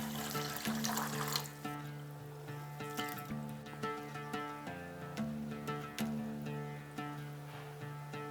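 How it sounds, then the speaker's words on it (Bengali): Gobindobhog rice is washed in a bowl of water with faint splashing, trickling and sloshing as the grains are stirred and rinsed, a soft low background hum running throughout and no talking. "এরপরে চালটাকে একটু ধুয়ে নেব।"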